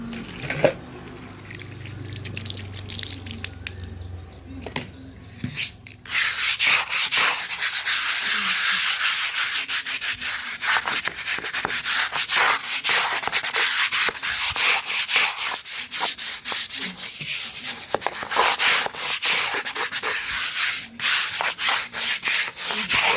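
Hand-washing clothes at home, with steady, vigorous scrubbing and rubbing of fabric that runs continuously and close by after a quieter, watery start, without any talking.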